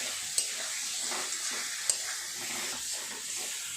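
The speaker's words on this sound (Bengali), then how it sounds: "আলুগুলো দিয়ে আর একটু ভালো করে কষিয়ে নেব মশলাটা" Potatoes and spices sautéing in a pan, with a steady close sizzle and hiss, while a utensil stirs and scrapes now and then.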